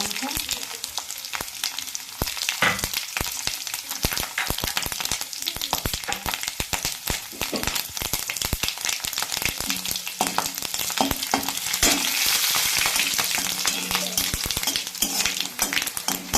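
Dried red chillies and panch phoron spice mix fry in hot oil, a dense continuous sizzle with crackling pops and occasional stirring clatter, close and steady throughout.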